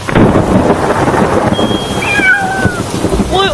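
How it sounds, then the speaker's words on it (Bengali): A cat meows over a steady wash of thunder and rain in a spooky night scene; a couple of thin tonal cries rise and fall near the end, fairly clear above the storm. "বিড়ালটা ডেকে উঠলো"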